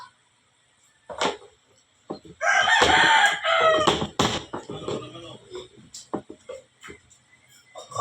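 A rooster crows loudly nearby, a long strained call, amid scattered clucks and other fowl noises, with brief sounds before and after.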